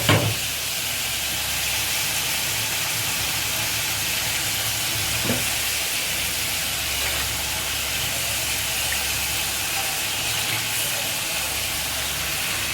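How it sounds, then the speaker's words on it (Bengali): Okra frying in hot oil with cumin seeds, a steady, even sizzle and hiss that holds without pause, close and fairly loud. "তেলের মধ্যে ঢেঁড়স দিয়ে দিয়েছে মা, জিরে ফোড়ন দিয়েছি।"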